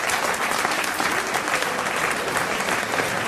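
Applause from an audience at a protest mobilisation meeting, a steady, dense burst of many hands clapping at once, loud and continuous for a few seconds.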